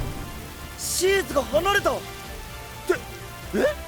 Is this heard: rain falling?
yes